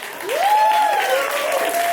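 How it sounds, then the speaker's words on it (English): Loud applause fills the room at an awards ceremony for the Dutch kiki scene as the audience claps for the winners, with a sustained whoop or cheer rising over the steady clapping. "A round of applause for all the winners before."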